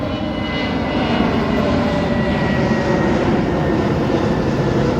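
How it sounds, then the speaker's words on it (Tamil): A fixed-wing airplane flies low near an airport landing area in Muscat, its loud, steady engine roar filling the scene continuously without any talk. "நம்ம வரும்போது ஒரு ஃப்ளைட்டு வேறு போயிட்டுருக்குது ஆமாம் இதுதான் ஃப்ளைட்டு லேண்டிங் ஆகக்கூடிய இடம்"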